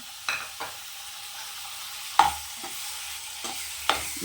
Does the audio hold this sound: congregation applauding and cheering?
no